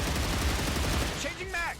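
Rapid gunfire from a first-person shooter game, a sustained burst of shots peppering an unknown target, with speech over the second half.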